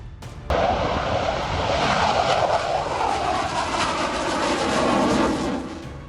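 Tejas MK-1A fighter jet in flight, a loud sustained roaring rush that starts abruptly after a brief lull, holds strong for several seconds, then eases as it recedes.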